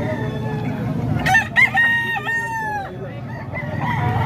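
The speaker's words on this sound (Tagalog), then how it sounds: "Ito, mga manok ni Boston mga ka-idol." Boston Gray banded chickens crow loudly in a long, ringing call, with clucking and other fowl noises underneath, on a busy San Jose del Monte, Bulacan farm.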